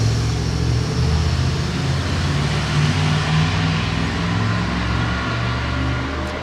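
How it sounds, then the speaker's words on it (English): A motorhome with a 454 engine roars by at speed, a loud, dense, broadband engine and road rumble that stays steady throughout with no voices. "It's a motorhome hauling ass."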